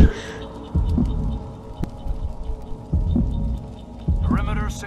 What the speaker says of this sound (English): I can hear your heartbeat.